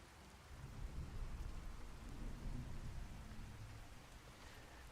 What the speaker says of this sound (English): Boy, the rain is really loud.